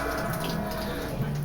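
Water squeezed by hand from cooked spinach over a kitchen sink, a close, steady splashing trickle into the basin.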